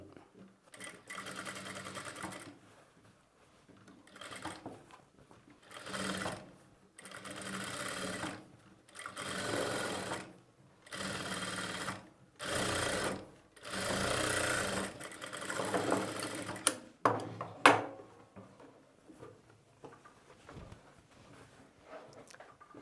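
A sewing machine stitches thread piping onto a square neckline in repeated short runs, each burst a few seconds long with brief pauses between, close and clear, ending with a few clicks.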